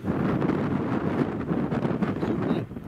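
Steady gusting wind buffets the microphone outdoors at a wild camp in the Howgills, a continuous rough low rumble with no talking.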